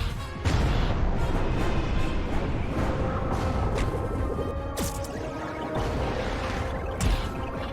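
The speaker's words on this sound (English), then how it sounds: "Strafing run." A strafing run attack in the space strategy game Halcyon 6 roars as a dense, continuous barrage of booming, crashing blasts. The barrage is loud and unbroken for several seconds, with sharper impacts punching through.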